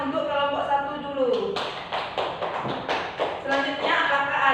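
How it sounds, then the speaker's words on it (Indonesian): Indonesian classroom students applaud a group with scattered hand claps that build into bursts of close, uneven clapping while a teacher's voice talks over the start. "Tepuk tangan untuk kelompok 1 dulu."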